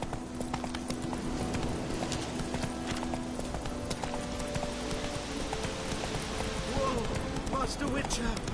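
Hooves of the horse Roach galloping in The Witcher 3 video game, a fast steady clip-clop drumming throughout, with game voices talking over it and a faint whinny.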